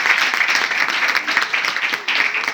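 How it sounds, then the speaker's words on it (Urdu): A church congregation claps loudly and steadily, a dense, continuous burst of applause filling the whole stretch with no pause. "زور تالیاں پر خدا کی"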